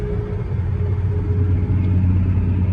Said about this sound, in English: let's go ahead and let this truck go by so you can hear me